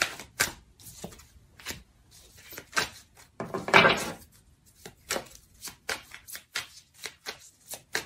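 Playing cards, a second deck of tarot-style cards during a reading, shuffled and laid down, giving close rapid riffling bursts and soft slaps with short pauses between.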